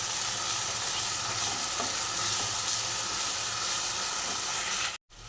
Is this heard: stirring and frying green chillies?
yes